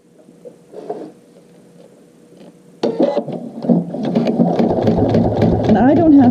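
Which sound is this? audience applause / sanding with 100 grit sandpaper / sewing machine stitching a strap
sewing machine stitching a strap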